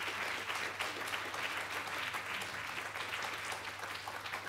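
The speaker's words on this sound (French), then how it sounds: "Je crois qu'on peut les applaudir." An audience applauds three panel participants at a library event, steady even clapping throughout with a faint low hum underneath.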